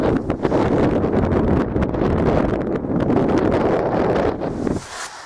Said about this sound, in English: the wind's got up quite a lot